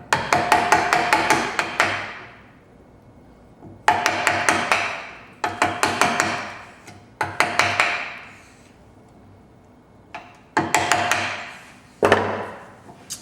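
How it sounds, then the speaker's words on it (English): A chisel driven by a hammer cuts a tee halving joint in wood clamped in a vise, sounding as sharp, close, loud strikes in rapid runs with brief pauses between the bursts. "repeat the same process by chiseling from the top"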